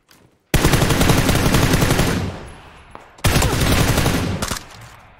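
Automatic gunfire in the video game PUBG, first-person duos mode: two loud, sustained bursts of rapid shots, the first fading out after about two seconds, then a short pause before the second burst starts sharply, with no talking.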